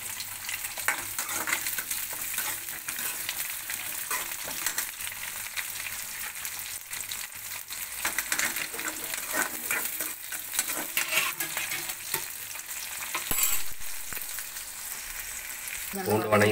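Onions and tomatoes frying in a pan for garlic kuzhambu, a continuous close sizzle broken by frequent spoon scrapes and clinks, a few light metallic taps near the end, no speech over it.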